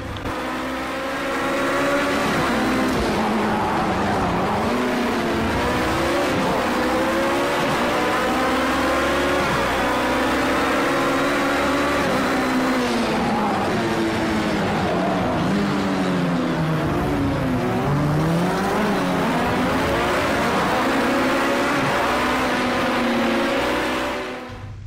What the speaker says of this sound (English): have a listen to these engines and enjoy all these games